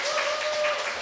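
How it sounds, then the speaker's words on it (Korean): Congregation at a Korean church service clapping together in appreciation: a brief, dense burst of steady hand applause from a crowd, fairly close and continuous for about a second. "우리 잠깐 박수 쳐드릴까요?"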